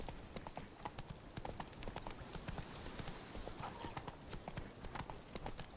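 Horse hooves clip-clop in a quick, steady rhythm of sharp, close hits while riding in The Witcher 3: Wild Hunt video game, a faint voice briefly heard.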